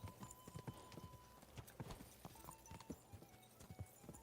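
Horse hooves clip-clop in a steady, fast rhythm during a race in the medieval video game Kingdom Come: Deliverance 2, with an occasional faint whinny and no talking over the galloping.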